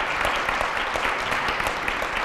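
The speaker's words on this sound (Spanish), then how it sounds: "Fuerte aplauso para él." Applause from a live audience at a crypto influencer panel debate in Granada, a dense, steady wash of clapping welcoming the moderator, loud and continuous throughout.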